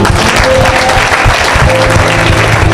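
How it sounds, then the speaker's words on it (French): A church congregation applauds loudly and continuously, dense clapping filling the space throughout with a faint voice underneath. "Acclamons très fort ici."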